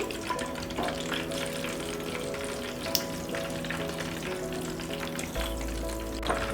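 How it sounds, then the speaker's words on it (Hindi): Okra sizzles steadily on a hot tawa as mixed vegetables fry, a dense continuous crackle with a few louder pops and faint clinks of a utensil, with no voices. "दूसरी सब्जी भी फ्राई कर लेते हैं। भिंडी,"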